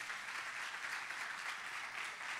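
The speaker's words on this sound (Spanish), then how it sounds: "¿Cuánto le pueden dar un aplauso a Jesús?" A church audience claps for Jesus in a steady, even wash of applause that stays faint and distant throughout.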